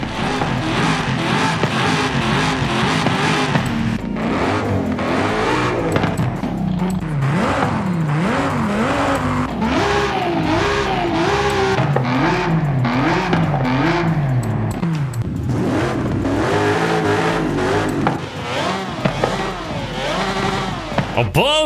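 Several racing-car engines in Forza Horizon 5, including a 3-litre turbo six-cylinder, 7-litre and 6-litre V12s and a 7-litre V8, rev and roar one after another, rising and falling in pitch, with a voice talking faintly underneath.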